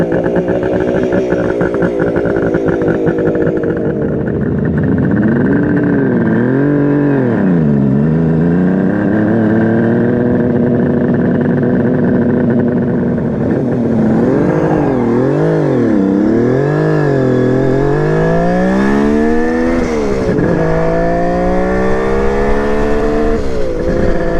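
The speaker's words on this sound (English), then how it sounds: "Bike fires right up. Give it a minute here to warm up." A cold motorcycle, just kick-started with the enricher on, settles into a loud steady idle close by and then gives several rising and falling revs, with longer climbing blips toward the end.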